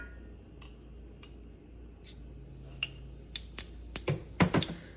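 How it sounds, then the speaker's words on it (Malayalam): Mustard seeds pop in hot coconut oil in a pan. Sparse sharp cracks give way to a quicker cluster of snapping pops near the end, over a quiet background. "കടുക് പൊട്ടി വന്നിട്ടുണ്ട്."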